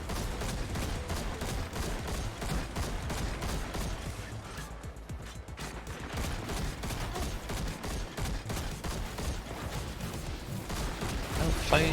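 Dense, continuous rattle of video game gunfire in a shootout, with rapid overlapping bursts and crashes that hold steady throughout, briefly easing midway before swelling again.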